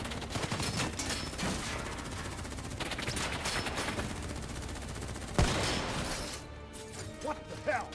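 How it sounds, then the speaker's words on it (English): Gunfire in Call of Duty: Black Ops III: continuous automatic bursts with scattered loud shots and one sharp crack near the end, mixed with game score and battle noise. "Who's shooting?"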